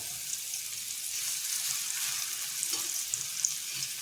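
Thin banana slices fry gently in a pan on low heat while cooking crispy banana chips, giving a steady, soft sizzle with faint crackles and pops throughout, close and unaccompanied by any voices.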